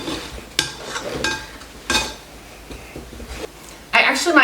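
Lard pie crust dough being mixed by hand in a bowl, with soft scraping and stirring and several sharp clinks of utensil against the bowl, close and moderately loud.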